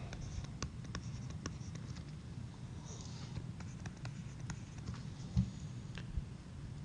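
Pen or pencil writing out answers by hand to statistics exercises, a steady close scratching with small taps and strokes over a faint background hiss.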